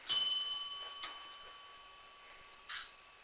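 A bell rung by pushing down its top button, giving a sharp ding with a long thin ringing tone that slowly fades, a smaller tap partway through, then a second brief ding near the end, in a quiet room.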